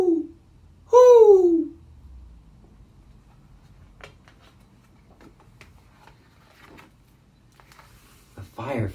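A voice imitates an owl hooting with one loud, close, drawn-out sliding hoot and a shorter one before it, followed by a quiet pause with faint rustling.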